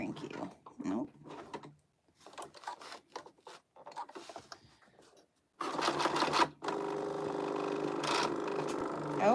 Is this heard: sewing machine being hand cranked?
yes